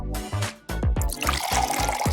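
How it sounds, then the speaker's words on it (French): A pot of noodles bubbles loudly up close, a quick run of bright, wet plops and gurgles one after another. "Regarde ces bulles."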